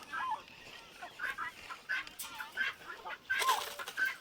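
Several chickens cluck in short repeated bursts close by, with soft rustling between calls.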